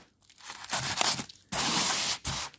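A blade slices through the plastic seal on a Dragon model kit box of a Messerschmitt Me262 diorama, making close, rough tearing and crinkling rasps in a few bursts, the longest near the end, with no talking.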